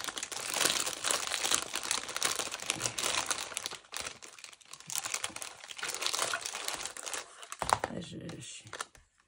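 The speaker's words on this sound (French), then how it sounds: "vous me connaissez pour le bruit de l'emballage" Plastic packaging being opened crinkles and rustles in loud, dense bursts close to the microphone, pausing briefly before more crumpling, with someone speaking French between the bursts.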